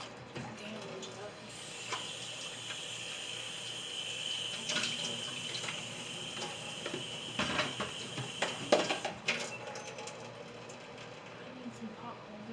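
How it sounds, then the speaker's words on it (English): Tap water runs into a kitchen sink while a pot lid is washed, with steady flow, light clanks and splashes, and a voice speaking at times over it. "I'm gonna wash this lid real quick"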